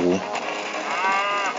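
A cow moos in the video game Super Mega Worm, one drawn-out, fairly loud call lasting over a second, standing alone without talk.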